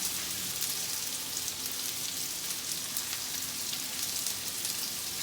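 A thin steak sears in a hot pan, giving a steady, dense sizzle and crackle of frying meat, fairly quiet and uninterrupted with no talking.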